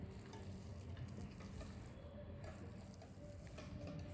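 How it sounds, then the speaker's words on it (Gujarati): A spoon keeps stirring a thick khajur pak date mixture, with dry ginger and ganthoda powder added, in a pan. A quiet, steady scraping comes under a soft, continuous sizzle, with no talking. "આ બધી વસ્તુ નાખી અને એક સરખું ચલાવ્યા કરવું"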